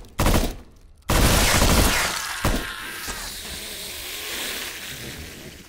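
Gunfire in the VR shooter The Brookhaven Experiment: two loud, dense bursts of rapid shots, the second longer, trailing into a fading noisy wash.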